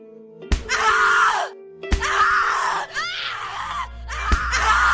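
A person in the video game The Cat Lady screams in three long, anguished bursts, each one preceded by a sharp thud, over a low droning background.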